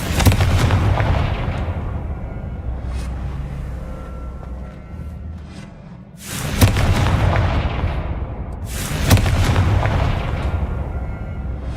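Confringo spell explosions in Hogwarts Legacy, with three loud booming blasts, each followed by a long rumbling decay, the second and third spaced a few seconds apart.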